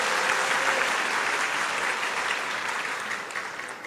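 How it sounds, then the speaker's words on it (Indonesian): Steady applause comes from a student audience at a discussion event. It is a dense wash of clapping at an even level that tapers slightly over four seconds. "Boleh kasih tepuk tangan."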